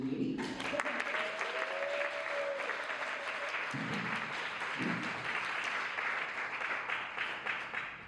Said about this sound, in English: So everyone please give a big round of applause to Katie.